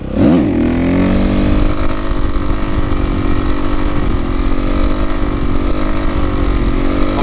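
Motorcycle engine revving hard while being clutched up into a wheelie in third gear, a loud, close, continuous roar with rising pitch at the start that then holds steady throughout.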